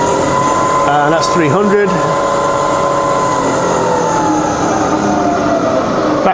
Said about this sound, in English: turn the motor on. So now we're running at 130 RPM